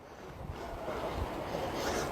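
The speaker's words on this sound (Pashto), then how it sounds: "دا اوبه وګوره دا داسې مفته کې روانې دي" Stream water flowing freely outdoors, a soft continuous wash with some wind rumble against the microphone, fairly faint and steady, no talking.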